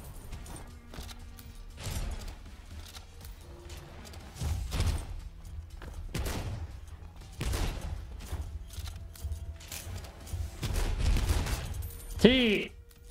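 Gunfire in the Soulslinger: Envoy of Death video game, with repeated heavy shots at an irregular pace over a steady low rumble, with a brief sweeping tone near the end.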